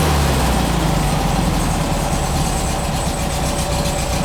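A 1952 MG replica engine idling down and loping on one cylinder, a loud, continuous, close-up rumble with an uneven, missing beat.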